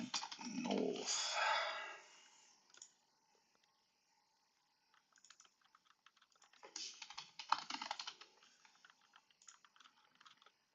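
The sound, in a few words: typing on a computer keyboard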